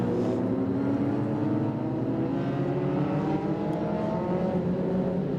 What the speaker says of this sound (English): Big group of cars there heading through what we call a cleavage here at Winton